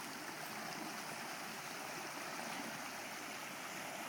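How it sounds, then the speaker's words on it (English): A rain-filled pond overflowing into a creek makes a steady, even rush of running water, faint and continuous like a small waterfall, with no voices. "This is our pond that used to be very dry, and it's overflowing into the creek."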